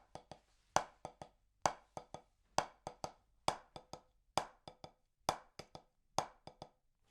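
Right and left hand split rudiment rhythm played on a drum practice pad, a steady run of sharp, close stick taps in repeating groups with louder accents, heard alone without talk.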